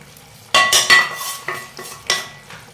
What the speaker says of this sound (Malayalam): എന്നിട്ട് എല്ലാം കൂടി ഇളക്കി യോജിപ്പിക്കും.